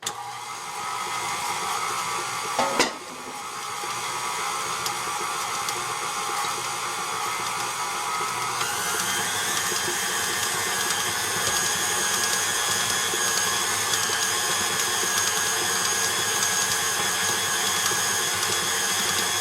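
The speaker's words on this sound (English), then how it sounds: "you're going to add in your brown sugar and continue to mix it until it's light and fluffy" An electric mixer creams butter with brown sugar for gingerbread cookie dough, a loud continuous motor whir that runs throughout, with a brief clatter early on and a slight rise in pitch partway through.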